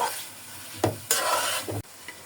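Fish with mixed vegetables such as radish, beans and cauliflower sautéing in a pan, heard as a close sizzle broken by a few stirring knocks and scrapes, then a sudden drop to quiet; no speech.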